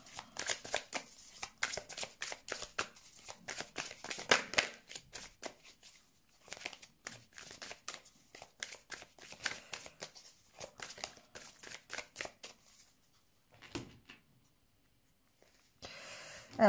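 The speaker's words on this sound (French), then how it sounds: "Allez, on va faire le tirage." Tarot cards shuffled by hand for a card reading: a steady run of soft, rapid riffling flutters and slaps, close and fairly quiet, pausing near the end with a brief rustle.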